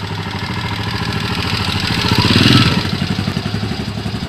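A motorcycle engine runs after a warm-up ride, a steady close rhythmic chugging idle that swells briefly in the middle, with no talking over it.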